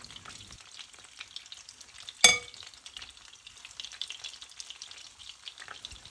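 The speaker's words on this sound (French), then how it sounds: "Je laisse cuire 4 à 5 minutes à feu moyen et je couvre la poêle" Crêpe batter cooks over medium heat in an 18 cm frying pan, giving off a soft, steady sizzle with one sharp clink partway through.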